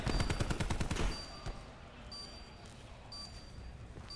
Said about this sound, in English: he gets a snipe onto Silly to keep the numbers in their favor